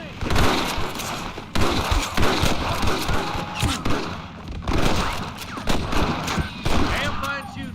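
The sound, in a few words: gunfire in the video game Red Dead Redemption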